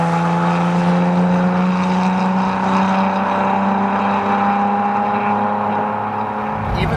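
A Datsun 240Z's engine pulls hard above 3,000 RPM, a loud, steady, close-up drone with rising harmonics that holds for several seconds before easing off at the end.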